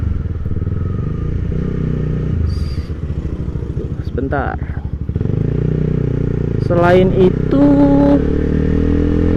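A Honda CBR150R fitted with a KTC quick throttle runs close by, its engine rumbling and revving up and down while someone talks over it.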